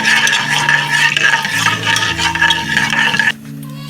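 Mustard seeds and chana dal fry in a spoonful of oil for a tamarind rice tempering, a dense steady crackle with spoon stirring against the pan that cuts off abruptly near the end.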